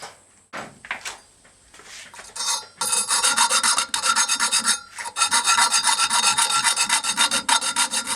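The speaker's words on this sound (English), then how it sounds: "Now I'll take a little file and try to get rid of all those burrs" A small hand file scrapes burrs off a metal part for a boat project, starting with a few scattered scrapes and then settling into loud, steady rasping strokes near the microphone.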